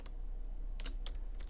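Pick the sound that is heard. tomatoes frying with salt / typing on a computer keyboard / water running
typing on a computer keyboard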